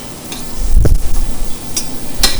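Thick-cut bacon, pork, Spanish olives and seasoning simmer in a pan, giving a soft sizzle with a brief stirring scrape and a few faint clicks over just over two seconds.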